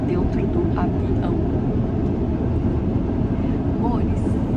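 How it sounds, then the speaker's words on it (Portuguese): An airplane roars overhead as a loud, steady low rumble that dominates throughout, with faint higher whooshes drifting above it. "avião."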